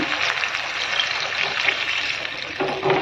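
Water is poured into a pan while semiya upma is being cooked, a steady splashing trickle that runs through the whole moment, close and fairly loud, with no voices.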